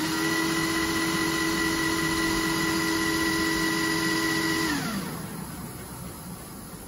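A Sinclair C5 electric motor drives its lifted back wheel with a steady, loud whine holding a constant pitch, then winds down sharply and fades into a quieter hum.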